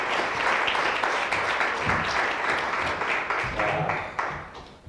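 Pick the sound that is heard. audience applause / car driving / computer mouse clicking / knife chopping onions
audience applause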